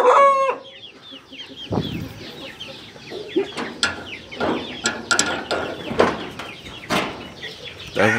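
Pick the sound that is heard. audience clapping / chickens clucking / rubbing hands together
chickens clucking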